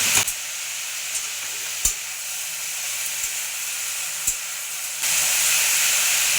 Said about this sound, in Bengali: এর মধ্যে সর্ষে বাটাটা আছে, একটু জল দিয়ে রাখি, সর্ষেটা একটু ভাজা হোক